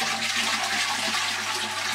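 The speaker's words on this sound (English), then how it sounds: "We can just flush that." A touch-free toilet flushes with a steady, loud rush of water, draining and refilling continuously and alone, with no voices.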